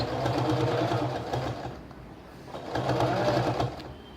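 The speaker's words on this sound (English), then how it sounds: "Now start sewing it." A sewing machine stitches a kurti in two runs of steady, rapid mechanical whirring, separated by a short pause.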